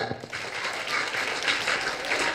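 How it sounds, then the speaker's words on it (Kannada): Applause from a theatre audience at a stage play, a sustained crowd of clapping hands that swells slightly and stays fairly near and steady. "ರಾಘವೇಂದ್ರ ನಾಡಿಗ್ ಅಂತ ಜೋರ ಚಪ್ಪಾಳೆ ಬರ್ಲಿ"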